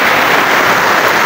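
Dense, steady hiss of rain pattering heavily on a nearby tent, continuous and loud with no other sounds.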